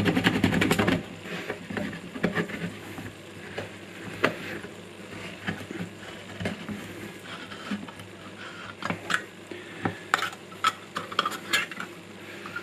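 Flimsy tin foil camping spoon scraping and prying at a tin can lid, a long run of close, irregular metallic scratches, clicks and grinding with brief pauses between bursts.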